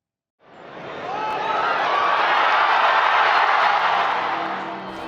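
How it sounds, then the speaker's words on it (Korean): Outside the Sistine Chapel in Vatican City, a large crowd of faithful awaiting a new pope bursts into cheers, a loud roar that swells quickly and holds steady with no distinct voices. "성당 앞에서 새 교황의 탄생을 기다리던 신도들이 일제히 환호성을 지릅니다."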